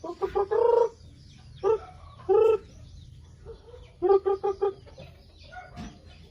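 Chickens cluck nearby in short rhythmic bursts and drawn-out calls, with quiet gaps between the outbursts.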